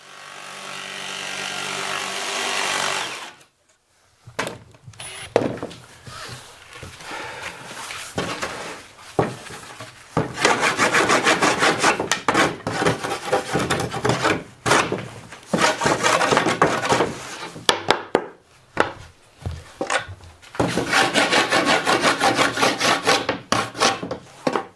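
A multi-tool cuts through a wooden plank in rasping, sawing bursts, close and fairly loud, stopping and restarting several times with short pauses between passes.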